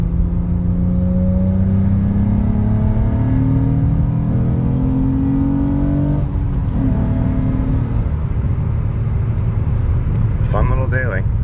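Acura TL-S with a six-speed manual, engine and exhaust droning in a steady low rumble, pitch rising and falling with revs, a voice talking over it near the end.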